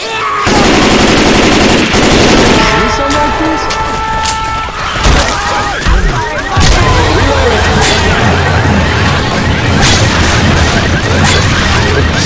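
Rapid, loud automatic gunfire in the zombie shooter Left 4 Dead 2, dense bursts and crashes filling the whole stretch, with occasional voices shouting over the din.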